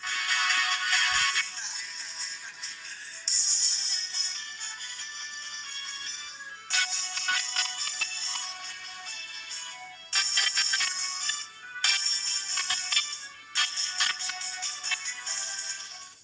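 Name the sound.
smartphone speaker audio sample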